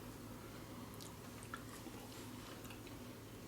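Someone chews a mouthful of tender beef tagine, giving soft, close, quiet mastication sounds against near silence.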